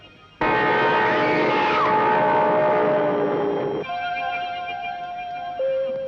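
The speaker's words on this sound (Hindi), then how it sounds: "गाड़ी आ गई, चलो।" A train pulls in with a sudden loud, sustained horn blast that drops to a lower tone partway through and then shifts pitch again, over a steady rumbling background.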